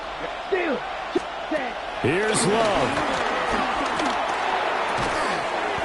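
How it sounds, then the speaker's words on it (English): Football stadium crowd roaring, loud and sustained, with cheering that swells partway through, under a play-by-play commentator's voice and sharp thuds. "this crowd making it hard to hear"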